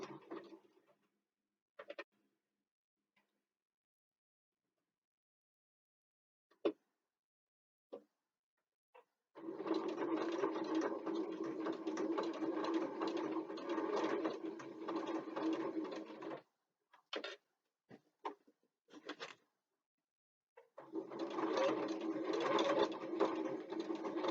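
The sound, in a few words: sewing machine stitching fabric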